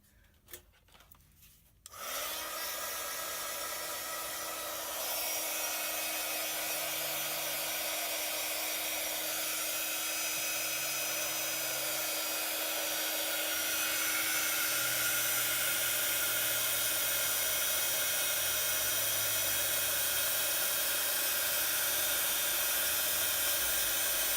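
A heat tool used for embossing a Stampin' Up lip balm gift box switches on after a few quiet seconds and then blows with a loud, continuous whirring hiss until the end.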